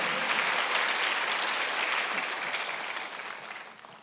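A Sunday service congregation claps together in a broad, crackling burst that holds steady, then gradually thins and softens toward the end.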